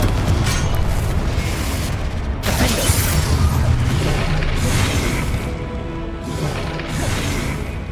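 Confringo explosive spell cast in Hogwarts Legacy during combat: loud, booming blasts with sharp onsets land over a dense, continuous rumble of battle.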